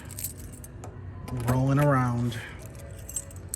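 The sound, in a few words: keys jangling while searching for the car trunk key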